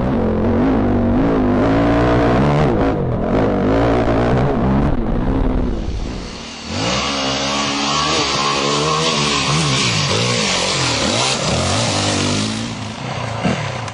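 A Yamaha WR450F off-road motorcycle engine is loud and close, revving up and down in rising and falling sweeps, settling into a sustained higher-pitched run while riding.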